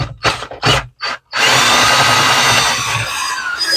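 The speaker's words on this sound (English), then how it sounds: "Should drill pretty good now." A power drill starts and stops in a few short bursts, then runs steadily, grinding loudly through material before slowing toward the end, drilling a wiring hole in an RV motorhome.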